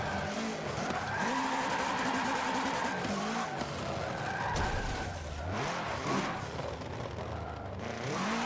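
A 2016 Subaru WRX #199 rally car drifting on the Dubai or Prague track in Forza Motorsport 7, its engine revving up and down over continuous tire squeal and skidding, loud throughout.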